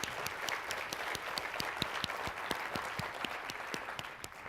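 Steady applause from a banquet audience honoring award recipients, many hands clapping with a few sharp individual claps standing out, sustained and moderately distant.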